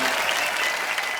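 A studio audience on The Kapil Sharma Show applauds loudly to welcome guests, giving a brief, dense, continuous burst of clapping with no talking over it.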